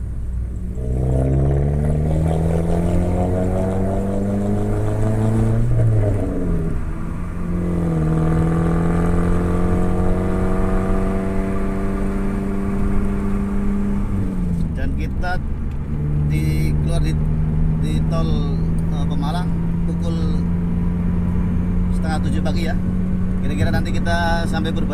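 A car cruises on a wide, smooth road at about 80 km/h, heard from inside as a loud steady engine drone whose pitch climbs and drops at gear changes, over constant road rumble.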